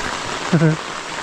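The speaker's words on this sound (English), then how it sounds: "Out in the field in the rain." Steady rain hisses on a truck bed canopy at a rural Kentucky campsite during thunderstorms, a constant pattering wash with a short voiced sound breaking in partway through.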